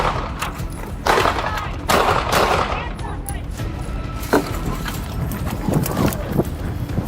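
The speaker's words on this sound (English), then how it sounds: "Shots fired. Shots fired." Several sharp gunshots ring out during a police confrontation, a few loud reports spaced across the scene amid shouting officers and background noise.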